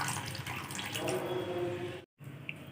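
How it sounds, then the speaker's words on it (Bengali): Warm water poured into a pot of vegetable curry with potato and cauliflower, a steady close splashing gush that runs for about two seconds, then cuts off abruptly, followed by a faint drip. "এবার আমি এর মধ্যে একটু উষ্ণ গরম জল দিয়ে দেবো।"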